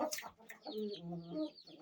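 A young rooster chick peeps and clucks close by in short, uneven calls, fairly quiet and alone.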